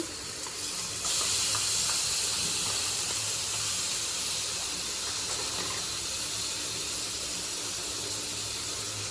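Masala paste made with water hits hot animal fat and bursts into a loud, steady hissing sizzle that swells after the first second and holds close and even.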